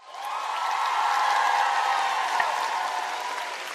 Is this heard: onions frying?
no